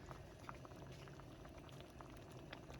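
A big pot of pasta water at a rolling boil, quiet but continuous bubbling and popping heard up close, with no voices.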